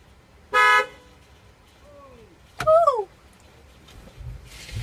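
A pickup truck horn sounds in two short honks, the first a steady blast and the second a wavering, bending toot, loud and close with quiet pauses between.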